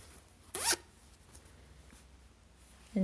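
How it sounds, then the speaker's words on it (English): Zipper on a handmade sewn project bag with a boxed bottom being pushed out, a single quick rasping zip burst near the start, then quiet handling with a brief rustle at the end. "I like to just push this zip part out a little bit."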